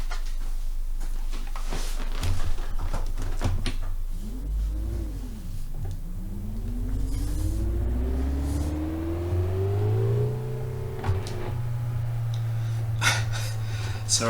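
A car engine in the Assetto Corsa racing game, modded 116 Trophy model, revs and climbs through gears in rising sweeps over a steady rumble, with occasional clicks and thumps nearby.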